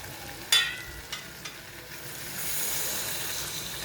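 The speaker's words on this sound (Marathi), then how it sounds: "आता आपण याच्यामध्ये पाणी टाकणार आहोत" Water poured into a pan of frying potato curry: a sharp splash, then a few smaller pours, followed by a rising, steady hiss of sizzling and bubbling that grows louder toward the end.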